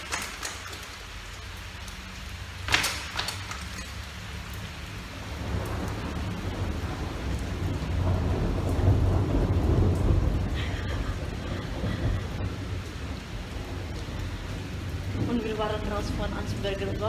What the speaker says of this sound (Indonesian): Eh cepetan, petir, tahu ada petir.